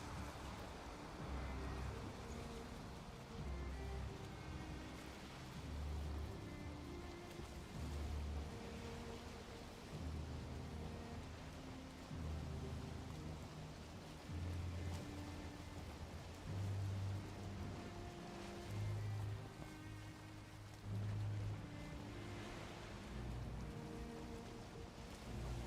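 Heavy rain falls in Valheim as a soft, continuous patter with low rumbling swells, faint and distant throughout, with no voices heard.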